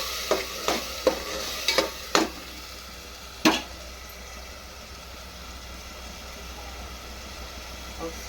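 Tomato pulp fries in oil in a pan for tomato rice. Several sharp spatula clinks and scrapes come early over a low, steady sizzle that continues quietly afterward.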